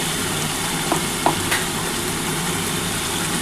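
Spice masala for katla fish fries with a little masala water in a pan, giving a steady, dense sizzle with a few faint stirring clicks.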